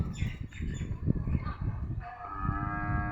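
A cow moos in a cattle shed, two drawn-out lowing calls close by over a few seconds, with birds chirping faintly in the background.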